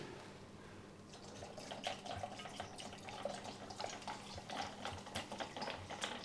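Water poured into a bael fruit sharbat with almonds and poppy seeds, a soft, quiet, steady trickle and splash with faint clinks.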